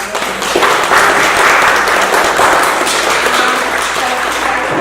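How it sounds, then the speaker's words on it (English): Audience applause for a panel at a talk, a broad sustained wash of clapping from a crowd that holds steady at a loud level for several seconds. "take a round of applause for our panel"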